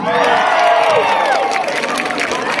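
A large concert crowd roars and cheers continuously for the band in Makassar, with shouts and whistles rising over a dense wash of clapping, loud and close.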